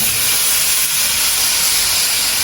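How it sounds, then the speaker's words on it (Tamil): A loud, steady hiss like steam from a pot of rice porridge boiling hard fills the whole stretch, with no talk. "இது கொதிக்குது"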